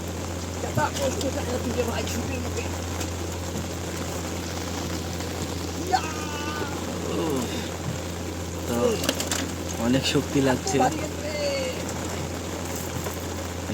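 Heavy rain hisses steadily over a river while a fishing net is cast, a dense constant wash of sound with voices talking over it now and then.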